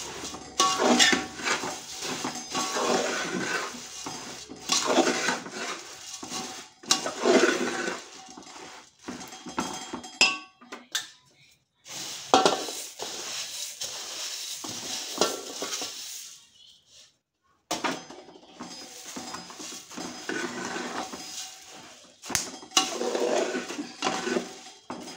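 A spatula scrapes and turns puffed rice through sticky jaggery syrup in a pan for laddu, steady rustling and clinking strokes in bursts with brief pauses, close and moderately quiet.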